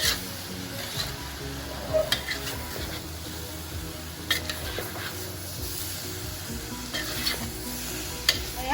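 Spring roll filling of carrot and onion being stir-fried in a pan, a steady close sizzle with scraping and stirring strokes and occasional clinks of a utensil against the pan, no voices.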